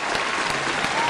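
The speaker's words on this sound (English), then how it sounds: "we're going to give her a round of applause for that" A studio audience on a morning radio podcast breaks into steady, close applause, a dense wash of clapping for the full short moment.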